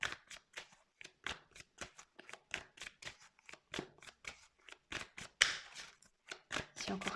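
Playing cards are picked up and shuffled close by. A rapid run of crisp flicks and papery snaps comes in quick irregular bursts, separated by brief pauses.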